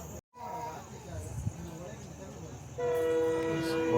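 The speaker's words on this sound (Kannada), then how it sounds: "ಪಂಚಗಂಗಾ ಸೂಪರ್ ಫಾಸ್ಟ್ ಎಕ್ಸ್ಪ್ರೆಸ್ ಬರ್ತಿದೆ ಇವಾಗ" Panchaganga superfast express, the Karwar–KSR Bengaluru train, approaches with rumbling rail noise and a voice talking over it, then a loud sustained horn blares steadily for the final second or so.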